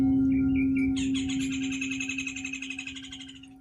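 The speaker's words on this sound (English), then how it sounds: "I love the birds." Birds chirp and trill in a bright, busy chorus, a lively warbling run that thickens after the first second and continues to the end, over a steady low hum and soft background noise.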